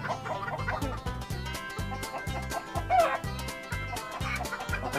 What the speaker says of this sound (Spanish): Vamos a agarrar el gallito por cualquier cosa.